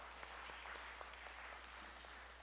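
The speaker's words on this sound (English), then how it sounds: "Give yourselves a round of applause." An audience at The Women Gather 2024 event claps in a faint, distant-sounding round of applause, a continuous patter lasting a couple of seconds with no speech.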